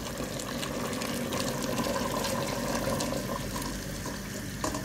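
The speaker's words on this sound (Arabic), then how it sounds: "بعد ما تقلاو لي دوك نمرق بالماء سخون مغلي" Boiling hot water poured into frying minced beef and steak slices gives a steady loud rushing, hissing gush that runs unbroken throughout, close up.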